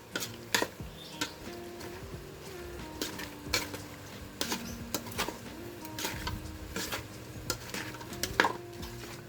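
A spoon stirs and mixes Ilocano-style dinakdakan in a pan, giving irregular metallic scrapes and clinks against the pan over a faint sizzle, close and moderately quiet, with no voices.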